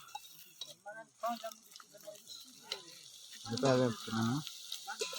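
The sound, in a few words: uncle cooking dal curry, frying in pan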